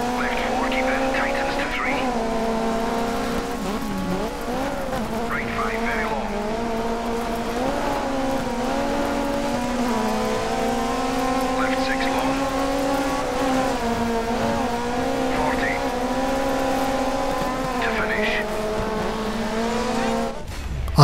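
Rally car racing in Dirt 3, a 70s classic car on the Tsavo stage, with a steady, loud engine drone that rises and falls with gear changes and occasional tire squeal, running continuously, with a player occasionally speaking over it.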